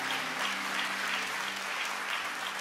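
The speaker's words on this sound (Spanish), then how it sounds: "Dele fuerte ese aplauso al Señor." A church congregation claps together in sustained, steady applause, loud and close, with no voices standing out over the dense clapping.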